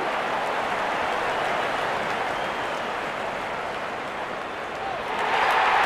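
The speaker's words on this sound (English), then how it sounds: "Gets the applause it deserves." Cricket crowd applauding a batsman's double hundred in a stadium, a continuous broad roar of clapping and cheering that swells near the end, with a commentator talking over it.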